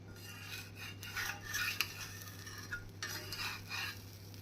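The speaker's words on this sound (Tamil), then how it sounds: "இட்லி பொடியை நன்றாக பரவலாக நாம் தேய்த்துவிட்டு மெதுவாக திருப்பி போட்டு விடலாம்." A carrot onion dosa is flipped on a hot pan, with quiet scraping strokes of a spatula over a steady low sizzle.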